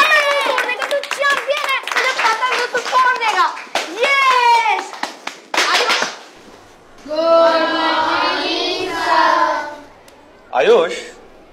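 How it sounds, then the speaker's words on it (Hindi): Children clap their hands in quick bursts amid lively kids' chatter, the claps sharp and close, with a short pause before more young voices. "आयुष तालियां बहुत हो गई"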